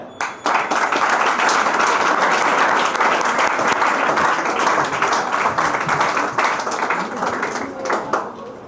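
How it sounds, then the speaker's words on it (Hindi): Sustained crowd applause rings out as a film team from the movie Ghoonghat is welcomed at an academy promotion event, dense and loud from start to finish with faint voices mixed in. "तो एक बार आपकी जोरदार ताली के बीच बुलाना चाहूंगा घूंघट की टीम ने"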